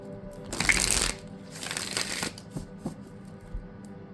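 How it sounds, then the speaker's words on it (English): Cards are riffled and shuffled up close, two quick papery bursts of flapping followed by a few soft taps as the deck is squared. "Let me shuffle this one more time."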